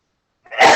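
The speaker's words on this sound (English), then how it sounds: "I'm going to sneeze." A single loud, close sneeze bursts out abruptly after a moment of silence.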